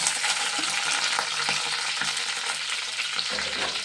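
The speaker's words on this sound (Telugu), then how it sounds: "ఇంకా కరివేపాకు వేస్తున్నాండి." Curry leaves fry in hot oil in a pan, giving a constant crackling sizzle with scattered pops, close and fairly loud, with no voices.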